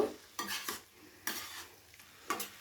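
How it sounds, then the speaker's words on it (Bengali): Spicy chicken with curry leaves is stirred in a pan, giving a few distinct scraping strokes over a soft sizzle, fairly quiet and without voices. "কারি পাতাটা দিয়ে আবার একবার চিকেনের সাথে খুব ভালোভাবে মিশিয়ে নেব।"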